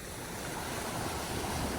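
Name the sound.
seashore with waves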